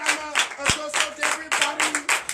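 Rhythmic clapping and acclamation from a congregation at a Sunday church service in Benin, bursts of hands in a regular beat with cheering voices and a tonal sound mixed in.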